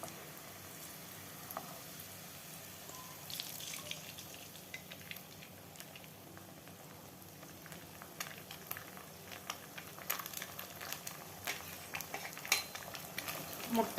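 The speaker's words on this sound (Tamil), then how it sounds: "அந்த எண்ணெயில் ஒரு 4 முட்டை உடச்சி ஊற்றி வச்சுருக்கோம். அதை கூட ஆட் பண்ணி நல்லா வறுத்துக்கலாம்." Four eggs frying in oil with vegetables for roadside-style egg noodles, stirred in a pan. A faint, steady sizzle runs throughout, with scattered clicks and scrapes of the utensil that grow busier toward the end.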